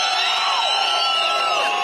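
Rally crowd at a political campaign event in Nandi, Kenya, cheering and whooping loudly in a dense, continuous roar, with shouts rising above the mass of voices throughout.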